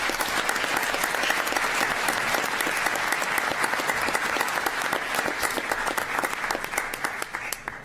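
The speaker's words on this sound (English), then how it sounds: "Give yourselves a really big round of applause." Applause for a boys lacrosse team at a city council meeting, a dense, steady round of clapping from a roomful of people that thins slightly toward the end.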